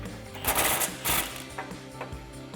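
A ratchet wrench with a 15mm swivel socket loosening a fog light bolt on a 2014–2015 Sierra 1500 pickup, giving bursts of close, fast metallic clicking separated by short pauses.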